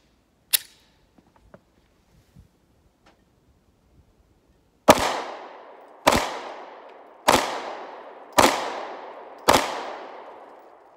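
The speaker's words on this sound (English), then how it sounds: "Back to the Springfield Hellcat, 5 more shots on our left target." Springfield Hellcat pistol at a shooting range: one early shot, then after a pause five sharp, loud reports about a second apart, each with a short ringing decay.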